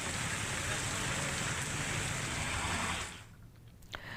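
Light drizzle falling over villages makes a close, even hiss for about three seconds, then the sound drops to quieter ambience with a single faint knock.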